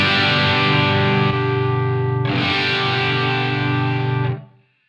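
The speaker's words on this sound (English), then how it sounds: "Let me show you what it sounds like first. Here's mono." Electric guitar with a Soldano SLO 100 style tone through Line 6 Helix delay in mono rings out as two loud, distorted sustained chords, the second struck around the midpoint, before both fade into silence.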